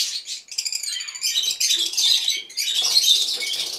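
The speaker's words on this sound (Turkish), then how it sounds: "Şöyle bunlar da cennet papağanları." Paradise parrots in a breeding facility give shrill, raspy chattering calls, dense and continuous with brief gaps, close and fairly loud with no talk.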